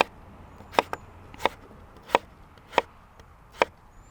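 Knife chopping through potato slices on a cutting board, five crisp, evenly spaced chops standing out clearly against a quiet background with no talking.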